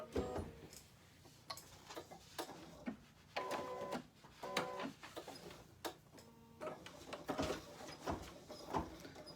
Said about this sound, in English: now I'm just gonna let it stitch out the stitches in order